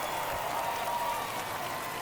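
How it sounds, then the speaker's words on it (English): A stadium crowd in the MLB The Show 23 baseball video game roars after a home run, a steady, dense wash of cheering and applause that holds level throughout without any voices standing out. "This crowd back alive."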